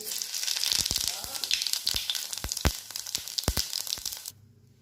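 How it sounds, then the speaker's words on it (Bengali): Bay leaf and whole cumin hit hot refined oil for a Bengali potol ghonto tempering, producing a loud, crackling sizzle with sharp pops and spoon taps that cuts off abruptly near the end. "তেলটা গরম হয়ে গেছে, এবার এর মধ্যে আমি ফোড়ন দেব। তেজপাতা, গোটা জিরে"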